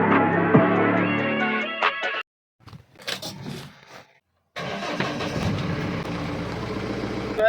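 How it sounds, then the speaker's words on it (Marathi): A vehicle engine idles to build up air pressure after the air ran completely low, a steady mid-pitched rumble that cuts out for about two seconds, sputters briefly, then settles back into a continuous run. "आता 2 मिनटं चालू ठेवायला लागणार आपल्या गाडी"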